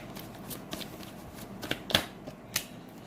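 Tarot cards being shuffled and drawn, a soft continuous riffle of card stock with several sharper flicks and slaps standing out near the end, close and fairly quiet with no talking.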